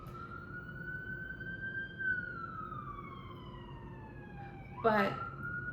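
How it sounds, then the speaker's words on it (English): A wailing emergency vehicle siren outside glides slowly downward in pitch, steady and moderately distant, with a brief burst of another noise near the end and a word spoken. "as we have the sirens"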